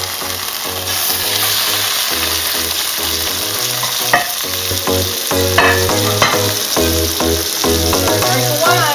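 Chicken rolls stuffed with spinach and cheese sear in hot oil in a pan, giving a steady loud sizzle and frying crackle throughout with occasional clinks and stirring sounds over a constant low hum.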